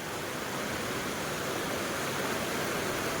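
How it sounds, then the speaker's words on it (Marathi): Heavy rain pours down at a clothing and vegetable market, a loud, unbroken hiss with no pauses, and no voices over it. "फुल ऑन पाऊस वाला पाऊस पडतो"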